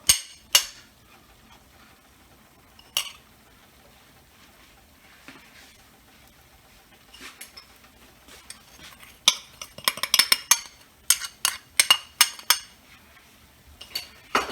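A hot pan is handled on the stove while food toasts in it for a tomato mac and cheese, giving sparse metallic clanks and scrapes that turn into a busier cluster of clattering knocks near the end.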